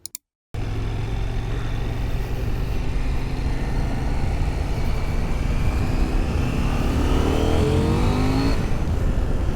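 A loud Husqvarna Svartpilen 801 motorcycle engine revs steadily and climbs in pitch after a brief silence, rising toward the end like the motorcycle accelerating up close.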